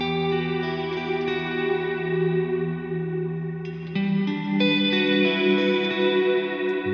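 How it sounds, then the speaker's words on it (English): Sustained electric guitar chords played through the Neunaber Wet Reverberator plugin on its standard stereo reverb setting, with a lush, shimmering wash and a chord change midway, played alone without talk. "So this is the standard stereo reverb."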